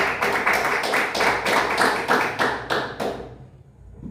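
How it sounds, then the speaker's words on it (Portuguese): A church congregation claps hands together in a quick, steady rhythm, a dense close wash of claps that stops abruptly near the end. "Mais palmas que exalta Jesus."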